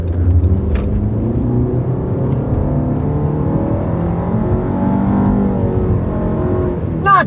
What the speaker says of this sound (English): You step on the gas, it makes a lot of noise, and it does go faster than the Honda